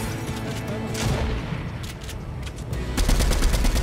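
Rapid bursts of gunfire in Fortnite crackle continuously, with dense automatic shots and heavier booms mixed in, growing louder toward the end.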